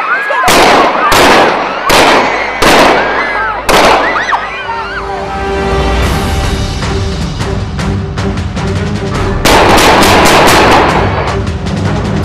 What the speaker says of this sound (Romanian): Nu au lipsit împușcăturile, grenadele sau petardele